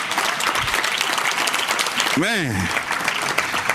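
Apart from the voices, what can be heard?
audience applause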